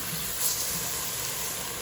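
Homemade chicken broth poured into a hot pan with onions, a steady close watery rush with light sizzling, continuous and fairly even throughout with no talking.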